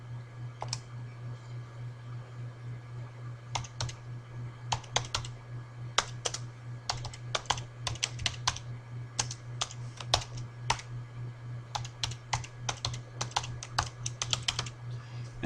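Typing a command on a computer keyboard in a terminal, with irregular bursts of close, crisp key clicks over a steady low electrical hum.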